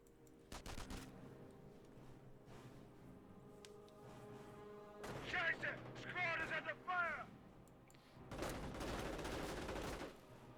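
Captured MG42 machine gun fire in Company of Heroes comes in several rapid bursts at differing distances, sharp rattling volleys with pauses between them, mixed with game noise and someone talking over parts of it.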